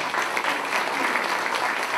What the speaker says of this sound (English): Another round of applause for Herb Green